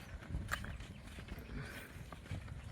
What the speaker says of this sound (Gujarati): જો રંજીત ઘોડો હાઈ રહ્યો